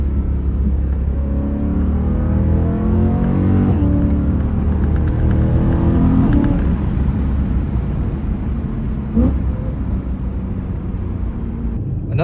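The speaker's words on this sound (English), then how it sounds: "there's just something about this DCT and those downshifts." BMW E92 M3 with DCT gearbox, engine revving and rising through blips as it downshifts, loud and continuous with road roar underneath, heard from inside with the windows down, no talking.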